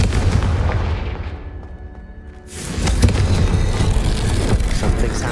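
A Confringo blast spell exploding in the video game Hogwarts Legacy, a loud booming detonation that thunders, fades into a hollow ringing lull, then erupts again in a broad rumbling roar.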